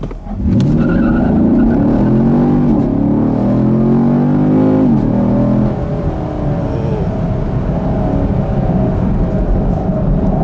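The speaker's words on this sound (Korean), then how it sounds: "지금 상태에서 스포츠 모드에서 한번 가속을 해 보겠습니다." A Chevrolet Camaro SS with a 6,162cc V8 accelerates hard from a standstill in sport mode, the engine roaring up through the revs with a shift, loud and close, then settling into a steady high-speed drone.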